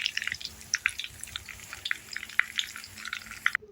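Banana flower fritters (bora) frying in hot oil, with a steady fine crackle and scattered sharp pops and spits, close and fairly quiet, with no talking.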